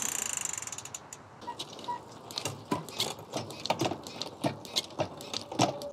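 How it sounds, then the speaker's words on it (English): Freshly lubricated bicycle chain turning through the gears on a bike, a steady run of mechanical ratcheting clicks and creaks, close and fairly quiet, with no voices. "What I'll do now is I'll run it through the gears real quick."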